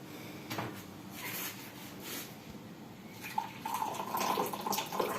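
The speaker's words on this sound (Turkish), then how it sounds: "İndi öz özünə çay süzür" Tea poured into a cup, a thin liquid trickle with light clinks and handling knocks, close and moderately quiet, the pouring growing stronger toward the end.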